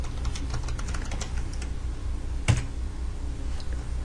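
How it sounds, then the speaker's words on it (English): Fingers tap quickly on a computer keyboard, sounding as a close run of light clicking keystrokes with one firmer key press near the middle. "When I type hello, I'm gonna type it all caps."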